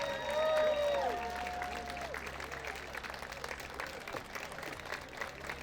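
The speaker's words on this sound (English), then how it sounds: "why don't you give them a big, well-deserved round of applause and thank them" Graduation ceremony applause from a crowd, the class of 2022, moderately distant and steady clapping with some cheering voices at the start, continuing throughout.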